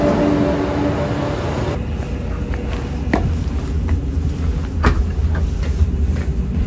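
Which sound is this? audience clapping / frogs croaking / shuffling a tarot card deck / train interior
train interior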